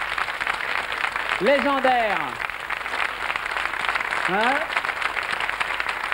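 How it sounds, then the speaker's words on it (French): A French television studio audience applauds during a 1994 tribute broadcast honouring a singer, a steady wash of clapping running under a voice that speaks over it throughout. "on peut les applaudir"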